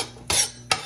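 Onions being stirred in a pot for lentil stew with chicken give two short, close scraping strokes of a utensil against the metal over a faint background sizzle.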